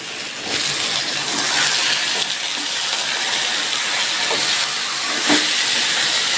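Pieces of pointed gourd land in a hot pan with potatoes and raise a loud, broad hiss that holds steady for several seconds. Faint clicks and knocks sound through it, and nobody speaks.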